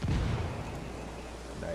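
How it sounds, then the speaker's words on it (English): A frag grenade explodes in Ghost Recon gunplay with one low, muffled boom at the start that fades into a rumbling tail and quiet ambience. "Can I throw a grenade down there? Frag out."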